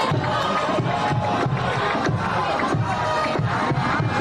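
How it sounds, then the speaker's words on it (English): Student section crowd at a high school varsity football stadium cheering for the home Mustangs, a dense, steady roar of many voices with rhythmic chanting pulses, loud and continuous throughout. "Great student section here at the stadium, looking to cheer on their hometown Mustangs."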